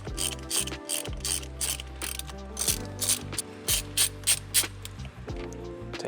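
A ratchet wrench loosens the steering wheel bolt on a 2022-or-later Toyota Tundra, giving close, crisp bursts of rapid clicking separated by short pauses.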